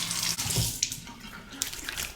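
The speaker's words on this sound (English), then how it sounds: "Cold water rinse to the face." Water running from a tap for a cold face rinse after shaving, a close splashing flow with intermittent bursts and drips as hands cup and splash the water.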